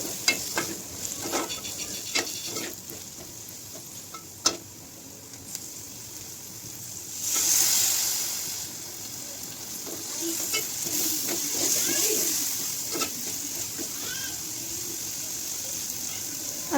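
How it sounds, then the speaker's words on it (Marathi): Ground spices with red chili powder and coriander powder sautéing in a pan, a steady soft sizzle with scattered scraping stirs and spatula taps, a louder hiss swelling midway, close and without talk. "आता सर्व मसाले छान परतून घेऊयात"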